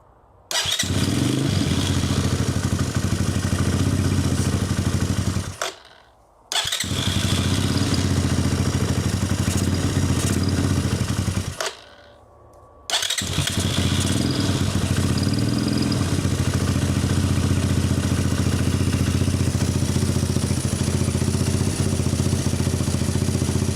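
A 250cc Apollo dirt bike with an electrical fault, its engine starting and running loud and close, a steady rough drone that cuts out twice briefly before catching again, no talk.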